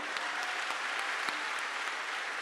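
Loud, dense applause from a large crowd at a Swami Ramdev katha gathering in Prayagraj, steady clapping filling the whole stretch with no voices over it.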